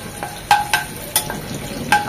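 Torn bay leaves fry in oil with a soft, steady sizzle, punctuated by several bright metallic clinks from a utensil against the pan. No one speaks.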